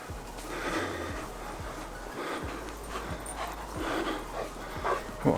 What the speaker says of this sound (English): the dog's choking on the corn, as he always does